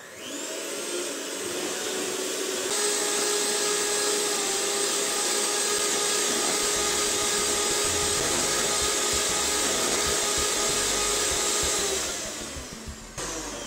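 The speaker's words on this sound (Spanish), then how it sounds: "Entonces vamos a batir, a formar la crema chantilly." An electric mixer whips vanilla chantilly cream for éclairs with a loud, steady motor whine and high-pitched hum that runs unbroken for about ten seconds before cutting off, close by, with no talking.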